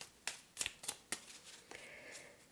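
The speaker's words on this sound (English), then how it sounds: "I just meditate while I'm shuffling the cards." Tarot cards being shuffled by hand, a few quick riffling bursts and soft flicks spaced over a couple of seconds, close and fairly quiet with no talking.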